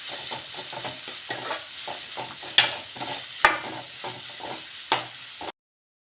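Vegetables with garlic paste, green chillies, curry leaves and coriander stir-fried in a pan for baby corn Manchurian, with steady sizzling and repeated scraping stirs, a few sharp clanks, then abrupt silence near the end.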